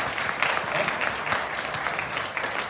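Steady audience applause fills a live motivational talk hall, dense continuous clapping from a large crowd lasting the whole stretch with no voice over it.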